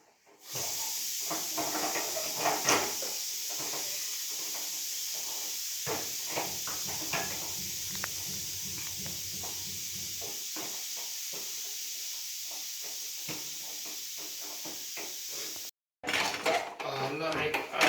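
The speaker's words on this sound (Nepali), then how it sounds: "त्यसमाथि फापरको पिठो मिक्स गरेपछि लगभग 10 मिनट यसरी पकाउनुपर्छ।" Nepali buckwheat flour dhido cooking in a pot, with clinking and scraping of a utensil against metal and a soft hiss of steam throughout, fairly close, and a short clatter near the end.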